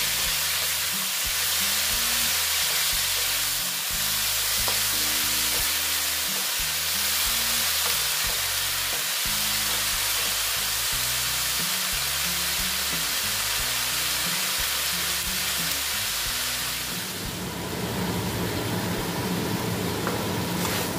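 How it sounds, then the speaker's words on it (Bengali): Boiled banana flower (mocha) fries in a pan with a steady loud sizzle as it is stirred, with repeated thumping and scraping strokes against the pan, then the stirring stops near the end and only the hiss remains. "দিয়ে আবার মোচা সিদ্ধ একটু কষিয়ে নেব।"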